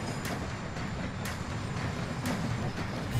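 A train rolls past in a video game as a steady low rumble with faint rhythmic clicks of wheels over rail joints, continuous and fairly loud throughout.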